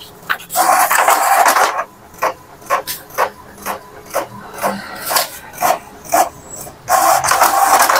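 An inkjet printer runs off a colour test page in a series of rhythmic rasping bursts as the print head sweeps back and forth, close up and with no talk.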